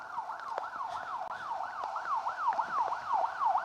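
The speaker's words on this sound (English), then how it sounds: "So you can hear the sirens on the stage." Distant emergency siren at a historic rally festival stage, a faint but clear rapid up-and-down wail cycling steadily over quiet outdoor ambience.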